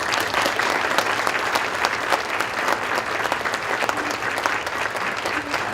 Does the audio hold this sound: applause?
yes